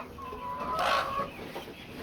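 Japanese bantam chickens clucking at a farm, a short close burst of clucks rising in the middle of the clip over quiet background.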